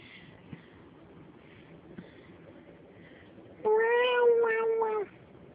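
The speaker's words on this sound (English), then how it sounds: "Do you think this cat is in heat or something?" A male cat lets out a single long, drawn-out meow, close and clear, following a few seconds of quiet room sound with faint soft movements.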